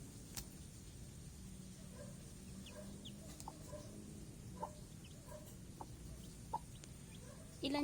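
A mother hen near her chicks clucks softly in short scattered notes over a low steady background rumble, ending with a louder close burst.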